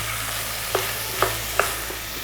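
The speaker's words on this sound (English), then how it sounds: "Putting all those peppers in," Peppers sizzle steadily in a frying pan while being stirred, with three or four sharp spatula scrapes rising over the constant hiss; no voices.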